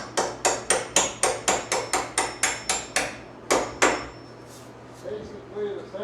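Mechanic's hammer strikes metal on a John Deere 40C crawler under repair: about a dozen sharp, evenly spaced ringing blows, then a pause and two more louder hits, with faint workshop noise and light movement afterward.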